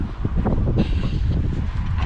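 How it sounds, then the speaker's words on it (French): Wind buffets a microphone steadily on a house roof, a dense low rumble with gusty surges throughout, loud and close, no clear voices. "Ouh, il y a du vent."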